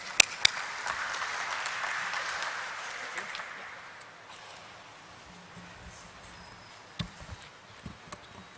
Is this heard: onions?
no